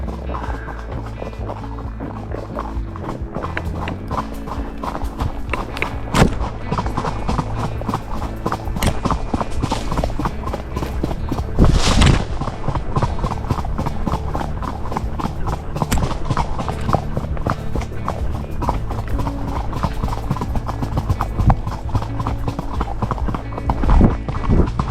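An Icelandic horse clip-clops along an autumn trail ride in a steady, close hoofbeat rhythm that continues throughout, with occasional tack rattles and a brief louder thud midway.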